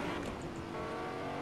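A Lamborghini driven in Fortnite gives a steady, close engine and road roar that holds at an even level for the whole short stretch, with no voices over it.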